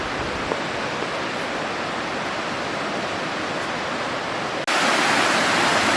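Red Creek, the left fork, running high with snow melt in Appalachian high country, a loud, steady broadband rush of whitewater heard up close, growing brighter and louder near the end, with no voices.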